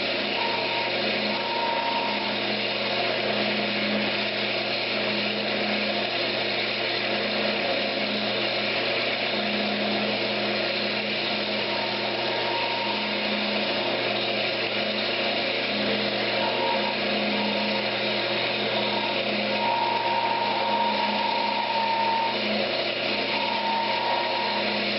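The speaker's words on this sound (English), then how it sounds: "Now, I'll just come back, just kind of scrape it." A wooden rolling pin turns on a wood lathe while a tool scrapes its surface, giving a steady, continuous whirring motor hum with a faint rasping texture that runs evenly throughout.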